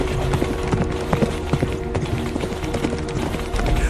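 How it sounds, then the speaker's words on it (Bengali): Horse hooves clip-clop in a quick, uneven rhythm, dense and fairly loud over a rumbling background as the horses approach across open fields beside a train line. "ঘোড়ার খুরের আওয়াজ ভেসে আসে দূর থেকে"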